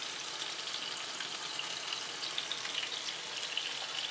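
Chicken pieces frying in a pan for a chicken pasta salad give off a steady, even sizzle with a fine crackle, close and continuous with no talking.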